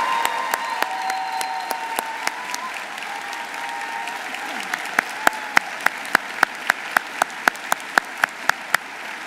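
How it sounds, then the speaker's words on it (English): An audience applauds at a medical school graduation ceremony, steady crowd clapping throughout, with one person's sharp, evenly spaced claps standing out close by in the latter half. "Let's all give them a round of applause."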